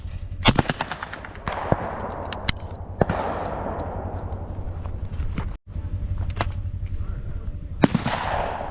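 Shotgun blasts at clay targets ring out outdoors in sharp, loud bursts, several spaced shots with echoing tails, while people call out between them.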